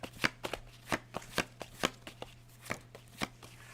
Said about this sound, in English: I just shuffle through